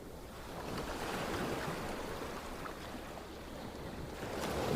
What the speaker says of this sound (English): Breathing deeply while listening to ocean waves can help reduce stress.